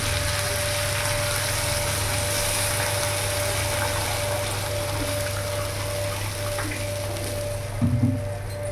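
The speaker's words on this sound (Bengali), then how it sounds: "এবার আমি জল দিয়ে দেবো।" Water goes into a pan of spiced potato and pointed-gourd curry, raising a steady hissing sizzle and rush that continues evenly, with a short knock near the end.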